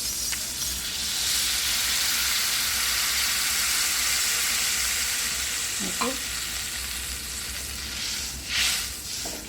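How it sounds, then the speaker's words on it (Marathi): Water poured into a hot pan for besan pitla sets off a loud, continuous sizzle that holds steady for several seconds, with a couple of light utensil clinks partway through. "पाणी ओतायचं आहे"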